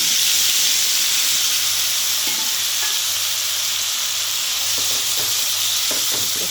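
Spiced tomato chutney with turmeric and salt sizzling in a hot pan while being stirred, a steady close frying hiss with faint scraping stirs throughout.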